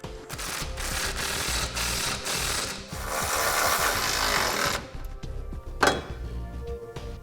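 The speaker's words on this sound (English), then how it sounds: "Now let's go ahead and snug up our bolts." A ratchet wrench snugs up the bolts on a Curt trailer hitch receiver, a steady run of rapid clicking for several seconds that stops, followed by a few scattered knocks and a sharp metallic clank.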